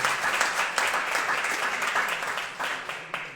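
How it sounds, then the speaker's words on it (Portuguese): A church congregation applauds in sustained, dense clapping that stays fairly steady throughout, with a few louder bursts toward the end. "Aplauda o Senhor pela vida dela, em nome de Jesus."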